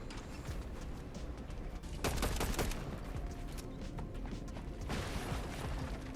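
Gunfire in a Fortnite-style shooter game, heard as quiet, rapid bursts of shots and clattering mechanical noise, with a louder flurry in the middle and no talking.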